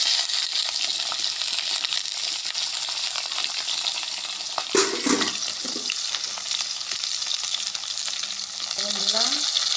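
Pointed gourd flowers fry in hot oil in a wok, giving a loud, dense, continuous sizzle close up, with a few brief stirring clanks partway through.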